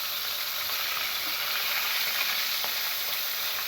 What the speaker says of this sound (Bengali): আর এক পাশে ভেজে নেব